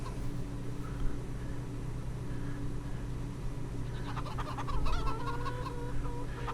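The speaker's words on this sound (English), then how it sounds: "And chickies." Chickens on a homestead clucking and calling in short, bright bursts toward the end, over a steady low background rumble, moderately near.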